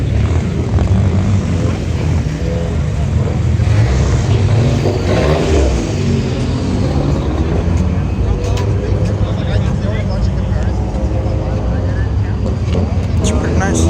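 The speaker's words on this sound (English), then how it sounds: "they're gonna do burnouts right here" Cars do burnouts at a large San Antonio car meet, a constant loud engine roar and tire noise filling the air, with people talking over the din throughout.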